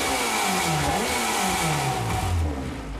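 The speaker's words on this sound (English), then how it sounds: "this is a 2-litre inline-4 BMW engine on the Team RAC touring car" A 2-litre inline-4 BMW engine in a Team RAC touring car revs hard and close, its pitch climbing and falling in repeated sweeps as the throttle is blipped, loud and raspy with no voices over it.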